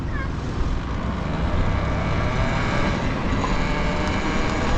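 A Talaria Sting R electric motorbike rides along with its loosened, gear-oiled chain, giving a steady broadband whir and rumble of motor, chain and wind noise throughout, fairly loud and continuous with no talk.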